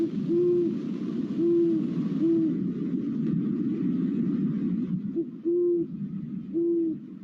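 An owl hoots in short, repeated calls over a steady low rumble, the hoots coming in irregular pairs and singles.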